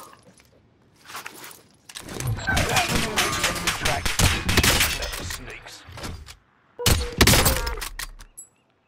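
Sustained gunfire in a first-person video game, long stretches of rapid, loud shots with short pauses between bursts, while a player talks over the shooting.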